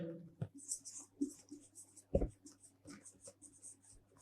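Chalk or marker writing on a classroom board, quiet scratchy strokes and a few sharp taps in short irregular bursts, close by, with a teacher speaking softly between them.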